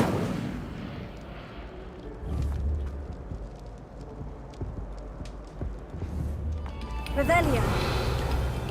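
Incendio fire spell cast in the Hogwarts Legacy video game: a burst of crackling, whooshing flame near the end, over a busy bed of game sounds and low rumbling.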